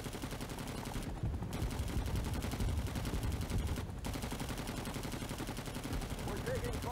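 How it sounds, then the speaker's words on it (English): Gunfire in the video game Rising Storm 2 Vietnam, a continuous loud rattle of shots and battle noise with little pause throughout, dense and close. "We're taking fire, taking fire!"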